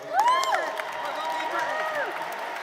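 Audience at an awards ceremony cheering and clapping, with whoops and shouts rising over steady applause in a large room, moderately loud and continuous.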